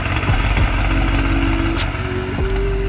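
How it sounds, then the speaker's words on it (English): A BMW M5 LCI idles with a steady low rumble, its engine tone holding even while other faint mechanical whirs and clicks sound nearby. "Just listen to that idle."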